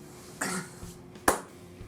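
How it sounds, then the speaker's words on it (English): A single sharp cough stands out close by, preceded by a softer breathy throat sound, with quiet room noise in between. "Sorry, I had to cough."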